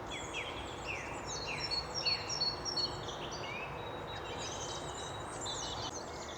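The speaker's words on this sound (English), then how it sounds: "Sounds like a thrush over there." A thrush sings from a distance on a sandy woodland walk near Pegnut Wood, its faint, varied phrases coming in short repeated bursts over a soft outdoor hush.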